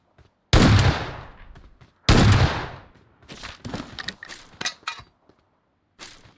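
Gunfire in a shooter video game: two loud, sharp blasts with ringing tails, then a ragged series of quicker, lighter shots and one last crack after a pause.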